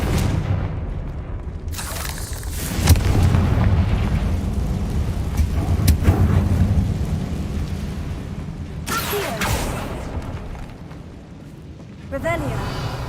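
Confringo blasting spell from Hogwarts Legacy detonating in a heavy, rumbling explosion that swells and rolls on for several seconds, with sharper bursts and crackles over a dense low roar.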